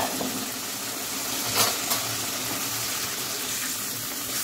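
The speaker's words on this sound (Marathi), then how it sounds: "आपण ज्या कढईमध्ये खिमा भाजून घेतला त्याच कढईत मी गरम पाणी ओतून घेतलं आहे" Hot water is poured into a kadhai holding browned mutton keema, making a continuous gushing, splashing pour at moderate volume with a couple of brief louder splashes partway through.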